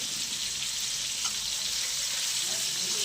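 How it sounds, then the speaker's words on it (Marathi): Fish fry sizzling in a pan, a steady bright hiss of hot oil, close and constant with no talking. "मस्तपैकी मच्छी फ्राय रेडी होते."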